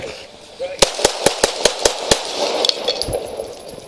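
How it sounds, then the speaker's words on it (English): Police gunfire during an officer-involved shooting: a rapid burst of about seven sharp, loud shots at an even quick rhythm, followed by a couple of fainter cracks, with a voice speaking around them. "shots fired"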